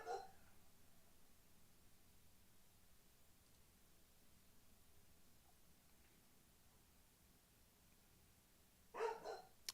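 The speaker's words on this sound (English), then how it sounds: "I'm not really sure what my dog's barking at." A pet dog barks twice in the background of a quiet room, one short burst at the start and another near the end, with near silence in between.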